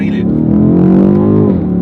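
BMW M850i with the M Sport exhaust and its valve system: a deep, steady, close-up engine and exhaust drone that holds for about two seconds before dropping slightly.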